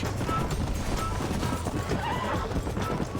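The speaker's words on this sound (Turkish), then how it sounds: "Bayağıdır at sürüyorsun." A horse in the Red Dead Redemption video game gallops with continuous hoofbeats and lets out a neigh, loud and near, with game sounds and some talk mixed beneath.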